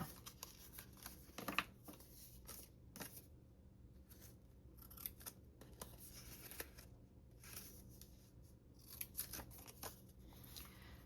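Scissors cut paper into pieces for making coin envelopes, heard as quiet, close snipping strokes in irregular clusters, some faint, with light paper rustling and no talk.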